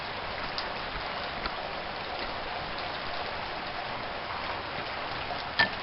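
Steady rain falling outdoors, an even, continuous hiss that fills the whole stretch, with one small knock near the end and no voices.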